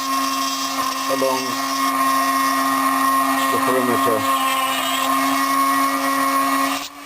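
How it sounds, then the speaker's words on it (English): A drill bit cuts through the plastic shell of an N64 controller, a steady high whine running loud throughout while someone talks over it. "And then put the drill through the hole"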